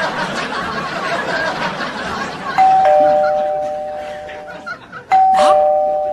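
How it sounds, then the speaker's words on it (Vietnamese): A home doorbell sounds twice, each a clear ringing tone that rings out and fades, heard close after a stretch of quiet background murmur with faint laughter. "nó bấm chuông rồi đó"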